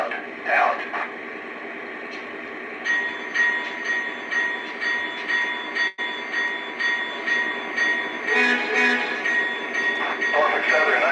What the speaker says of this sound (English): Locomotive is underway.